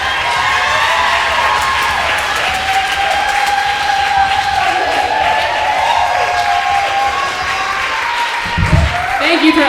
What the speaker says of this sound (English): Clap your little hands together right now for Max fucking Gross.